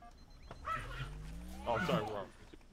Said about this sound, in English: My dog is fighting in the background.